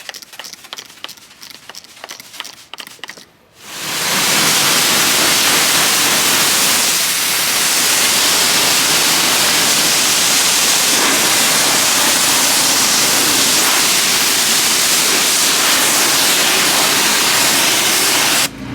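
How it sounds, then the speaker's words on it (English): After a few seconds of faint clicking, a pressure-water rinse bursts on and sprays a 2021 Corvette C8 hard top convertible, a loud constant hissing spray continuing steadily to the end. "let's go ahead and give this thing a rinse"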